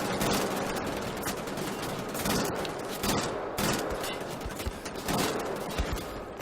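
Rapid automatic gunfire from the shooter video game Wolfenstein: The Old Blood rattles on in dense, sustained bursts with brief gaps, harsh and continuous for the whole stretch, with no voice over it.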